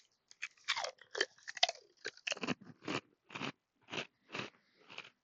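A big Canadian potato chip being bitten and chewed up close, a run of crisp, separate crunches that start rapid and irregular, then settle into a slower, evenly spaced chewing rhythm, with no talking.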